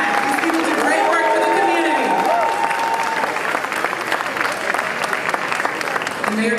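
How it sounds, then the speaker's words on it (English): Sustained crowd applause at an Africa Day celebration in Houston, steady and full for the whole stretch, with cheers, whistles and a voice over a loudspeaker mixed into the clapping. "Let's give everyone a round of applause right now, please."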